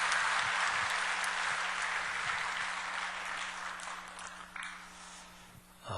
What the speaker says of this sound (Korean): 격려하면서 우리 박수 한번 하겠습니다